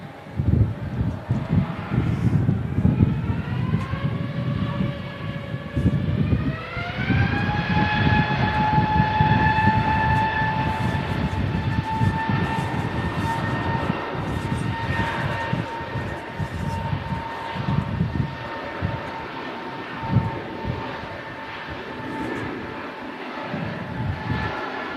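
A Scandinavian Airbus A320neo jet takes off for Stockholm, its engines spooling up into a loud, rising whine that settles into a sustained roar over steady background rumble.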